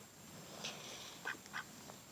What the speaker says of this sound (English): Oh, and they were right about the way they quack.